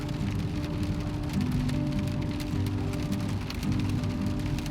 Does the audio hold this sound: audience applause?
no